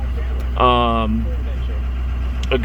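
A 2004 Sportsmobile RB50 4x4 van engine idles in a constant low, smooth drone, with a brief voice sounding over it.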